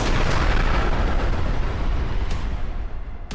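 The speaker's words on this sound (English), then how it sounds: "The drone strikes the target, causing enormous explosion." Drone strike blowing up a Russian military vehicle in a war zone, a continuous loud roaring blast and rumble with crackling burning debris, sustained at high level throughout with no voices.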